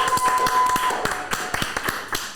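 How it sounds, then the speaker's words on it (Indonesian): Clapping for Gerald Liu in an Indonesian talk show, a short burst of close, uneven hand claps from a few people fading out after about two seconds. "Oke, tepuk tangan dulu buat Gerald Leo buat hari ini."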